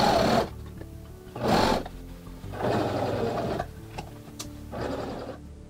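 A sewing machine stitches cotton-corded piping into the armholes of an old costume bodice, running in several bursts of steady mechanical whirring with short pauses between them and no talk.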